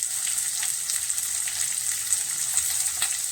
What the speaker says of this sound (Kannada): ಒಂದು ಬಿಸಿ ಬಾಣಲಿಲಿ ಜೀರಿಗೆ ಸಾರಿಸಿ ಹಾಕ್ತೀನಿ